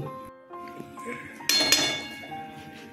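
A metal pot lid clinks as it settles onto a pan of small parshe fish curry cooked with coriander leaves and green chillies, two bright contacts close by over low kitchen noise.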